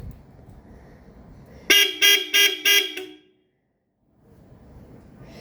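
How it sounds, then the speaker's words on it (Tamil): A car melody horn on a Maruti Eeco plays four quick, loud melodic toots in a row, close by, followed by a brief silence and then low engine rumble. "ஹாரன் போட்டிருக்கோம் பாருங்கள்."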